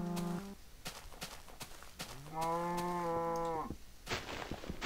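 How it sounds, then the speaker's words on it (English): Cows in the video game Minecraft moo loudly, with one long drawn-out low bellow in the middle and shorter calls and footstep clicks around it. "all you're gonna hear is just cows screaming"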